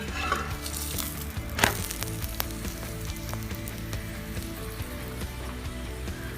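Puran poli cooks in ghee on a pan, giving a moderate sizzle broken by sharp clicks and taps, with one louder crackle early on.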